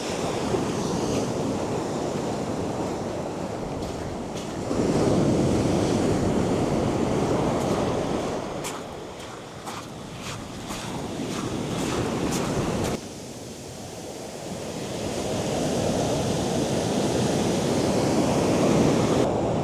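Sea waves break and wash in at the water's edge on Cogden Beach, a shingle shore, in a loud rolling rush that surges and fades in long swells, with wind buffeting the microphone.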